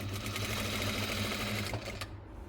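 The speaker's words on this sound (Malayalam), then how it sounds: "എന്നിട്ട് പിന്ന് കുത്തി വെച്ചിട്ട് തയ്ച്ചെടുക്കാം." A sewing machine stitches fabric for a star neck design, giving a close, steady whirring hum with fast needle ticks, then stopping abruptly near the end.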